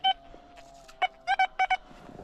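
A metal detector sweeping a field gives about six short, clear, high-pitched beeps at irregular intervals, some in quick pairs, over a quiet steady tone.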